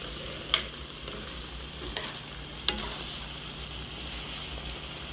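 Garlic sautéing in cooking oil for squid adobo makes a continuous sizzle, broken by three sharp utensil clinks against the pan, close and without talk.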